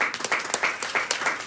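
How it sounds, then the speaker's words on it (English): Audience applause at a comedy show in Kyiv, with dense clapping that pulses in several quick surges over a short stretch and no voices on top. "Round of applause for Alexei."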